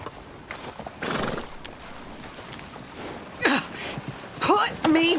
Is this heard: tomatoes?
no